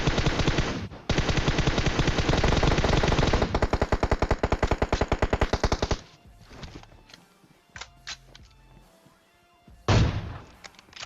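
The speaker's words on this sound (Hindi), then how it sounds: "यहाँ से स्नाइपिंग करने की मैं कोशिश कर रहा हूँ" Gunfire in the PUBG Mobile video game: rapid, loud bursts of automatic fire run for about five seconds, then scattered single shots and softer game sounds follow, with a sharp final shot near the end.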